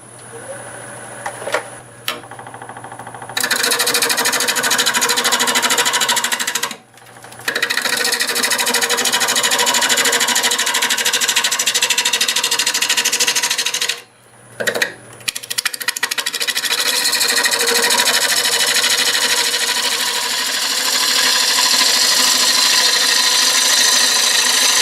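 Wood lathe turning a black walnut blank at about 800 RPM, a steady loud whirring hum with harsh cutting noise that runs nearly continuously, broken by two brief pauses.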